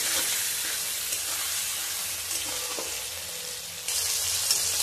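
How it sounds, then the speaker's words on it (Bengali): Onion frying in oil in a wok with dry red chilli, cinnamon, cardamom and cloves. The oil gives a steady dense sizzle with soft stirring scrapes, and the hiss grows louder near the end. "আর এবারে কড়াতে পেঁয়াজটা দিয়ে নাড়ছি।"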